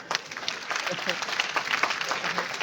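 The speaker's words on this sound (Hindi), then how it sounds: "तो बिटिया के लिए ताली बजता है।" Audience clapping rings out during a comedy stage show in Bhagalpur. It is fairly faint and scattered, with voices mixed into the applause.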